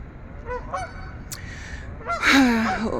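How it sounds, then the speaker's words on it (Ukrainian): In a city centre in Canada, geese give a few short nasal honks, then a louder burst of overlapping honking near the end, fairly close by. "Ходять гуси, кричать собі, нікого не бояться."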